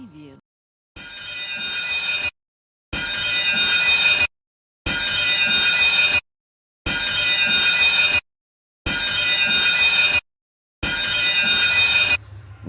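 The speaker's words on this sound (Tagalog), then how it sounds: "The motorman immediately sounded the general emergency alarm" A ship's general emergency alarm sounds during a flooding emergency as loud, repeated electronic blasts, six long tones of about 1.5 seconds separated by short gaps.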